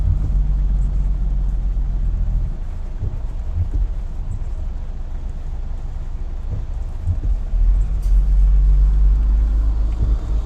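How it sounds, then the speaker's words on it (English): Interstate traffic rumbles past continuously in light rain, a low, broad wash of tyre and engine noise with wet road hiss, steady and moderately loud without any voices. "lot of traffic on the interstate."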